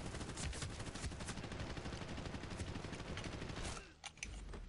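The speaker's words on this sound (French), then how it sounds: "Donc il y a des tirs." Rapid automatic gunfire from the shooter game Medal of Honor: Warfighter rattles in dense bursts, then briefly drops out before a few scattered shots resume near the end.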